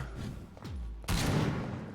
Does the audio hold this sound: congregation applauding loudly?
no